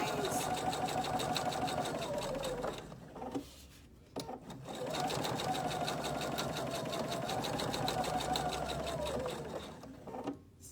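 A sewing machine stitches cork card holders in two long runs, a steady close whirring drone that stops briefly in between before starting up again.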